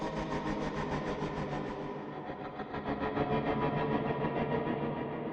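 Reactor meltdown effect for a dark end-of-times score: a dense, droning mechanical rumble with pulsing, train-like texture that holds steady and loud across the whole stretch, the upper hiss thinning partway through.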